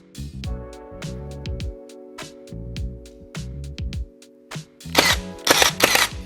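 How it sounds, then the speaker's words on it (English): A nail gun pins a wooden back panel to a flower pot, firing a rapid series of sharp close clacks, each with a brief compressor-like hum, ending in a louder burst of quick shots. "I'm going to first pin it with a nail gun"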